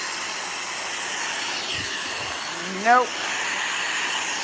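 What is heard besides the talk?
vacuum cleaner running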